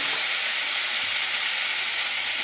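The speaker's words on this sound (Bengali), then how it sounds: "এবার দিয়ে দেবো ওর মধ্যে চিংড়ি মাছটা, নুন মাখানো চিংড়ি মাছটা দিয়ে দেওয়া হচ্ছে" Salted prawns fry in hot oil with a steady, loud, broad hiss and sizzle that stays even throughout, close and unbroken.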